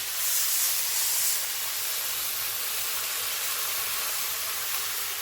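Water poured into a hot pan of cooking tomatoes sets off a loud, steady sizzling hiss that is strongest at the start, then settles into a continuous, slightly softer frying hiss.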